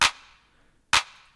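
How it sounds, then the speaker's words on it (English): A classic Roland 909 drum machine clap fires twice, about a second apart. Each hit is a sharp, bright burst with a short decaying tail, isolated and dry. "It's a classic 909 clap."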